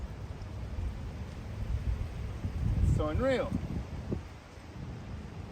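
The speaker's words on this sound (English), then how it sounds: "I don't know if you can see how strong this wind is, but it's bad." Strong, gusty wind blows outdoors at an archery range, making a constant low roaring rumble against the microphone that swells and eases. Someone talks briefly over it.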